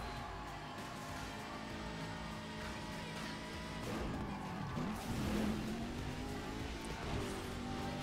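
A racing car engine in Burnout Paradise roars at a steady, moderate level, rising toward the middle with an accelerating whine and a brief scrape or impact, faint voices underneath.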